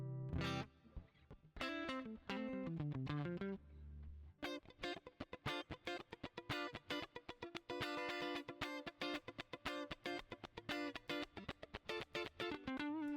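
A clean electric guitar through a Fractal Audio AX8 clean amp model plays rhythmic chords and picked notes, smoothed by front-end compression and trailing into a roomy reverb tail, with no voices.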